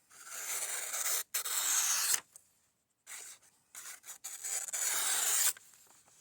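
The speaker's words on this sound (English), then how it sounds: "Just how loud these cuts are can tell you whether or not you've got a sharp edge." A knife blade slices through paper in a few long, loud scraping strokes, each separated by a brief silence, close up.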